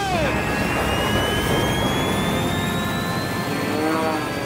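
Formula One race aircraft engines at the Reno Air Races roar into life, a loud continuous whine with rising pitch sweeping steadily over dense, rumbling engine noise.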